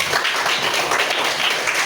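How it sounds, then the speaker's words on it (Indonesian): Classroom group applauding, a short burst of brisk, dense clapping from several children, close and steady throughout with no talking. "Berikan tepuk tangan"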